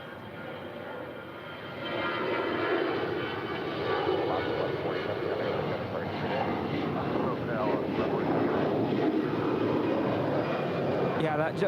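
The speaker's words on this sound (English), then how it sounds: "that JetBlue that just took off barely used any runway" A JetBlue jet airliner takes off at LAX, its engines a steady, distant broadband roar that swells slightly and holds throughout, with wind noise and people talking over it.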